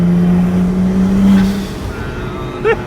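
A car engine running on E85 fuel revs and surges with a steady droning tone, then eases off, loud and close with no talking.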